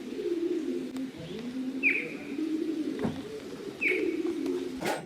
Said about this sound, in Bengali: তার কারণ সকালবেলার যে পরিবেশের পাখির ডাক এটা উপলব্ধ করার জন্য।